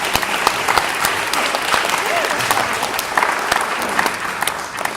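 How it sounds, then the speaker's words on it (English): Theater audience applauds the cast of a Beauty and the Beast stage production, a dense, steady wash of clapping filling the hall for several seconds, with scattered cheers and faint voices mixed in. "Give them a huge round of applause"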